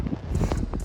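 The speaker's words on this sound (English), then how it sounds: "Sorry for the wind in advance. It's kind of windy." Wind buffeting the microphone at a pick-and-pull junkyard, a continuous low rumbling roar with uneven gusty swells throughout the short moment.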